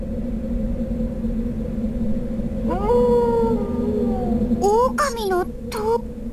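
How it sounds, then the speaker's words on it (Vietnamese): A wolf boss in the video game Accel World vs Sword Art Online lets out a long, rising and wavering howl, then several shorter howling yelps, loud over a steady low game drone and background hum. "có tiếng chó sói"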